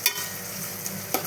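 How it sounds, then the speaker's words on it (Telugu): Food frying in a little oil in a pan, a steady close sizzle with a couple of soft stirring scrapes, no voices. "ఇవి కొంచెం నూనెలో ఫ్రై కావాలి, కొంచెం దగ్గరికి కావాలి."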